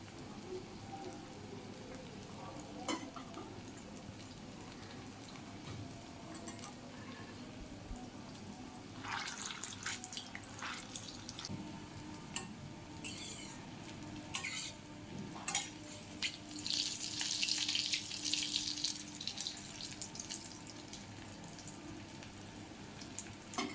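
Bengali soybean dumplings fry in a pan, a soft, steady crackling sizzle with scattered pops and a few stirring clinks, swelling slightly toward the end.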